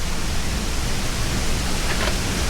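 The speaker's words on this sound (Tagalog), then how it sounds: "Ayan ang Mother Falls." Mother Falls waterfall in Baler, a steady broadband roar of falling water that stays constant and loud throughout, with no voices.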